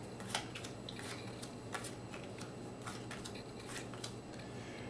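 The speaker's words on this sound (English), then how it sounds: "The first thing you want to do is deal out 9 cards face up." Playing cards are dealt face up onto a table for block solitaire, a quiet series of crisp, light snaps and slides at uneven intervals, close by and with no one talking.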